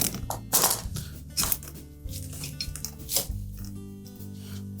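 Metal spring-type clamp worked off a rubber drain hose on a Whirlpool dishwasher, heard as close scraping, rubbing and squeaky friction in short bursts with a few clicks, loud and without talk.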